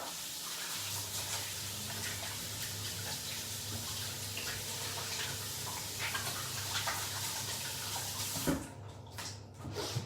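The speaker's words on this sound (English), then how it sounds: "let me just wash my hands" Tap water runs steadily for hands being washed in a home kitchen while meatballs are made, a continuous close rush that cuts off near the end.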